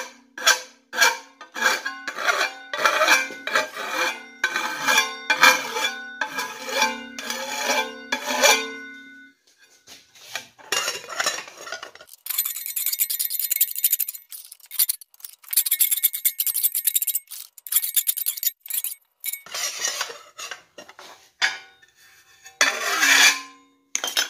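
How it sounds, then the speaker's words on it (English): A metal file rasps along the rough, chisel-cut edge of a hand-forged steel camp skillet in a series of close, steady strokes, then pauses and resumes in sharper, brighter bursts of scraping. "this edge is kind of rough from the chisel cut, so we're going to take our file, smooth it out here"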